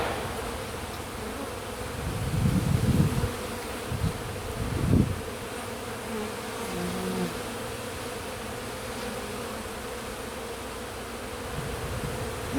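Honeybees buzz around an open hive during a spring inspection, a soft, steady hum close by, with a few louder swells as bees pass near and a faint chainsaw drone in the distance.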